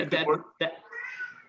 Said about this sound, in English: that noise, by the way, is Cecily's cat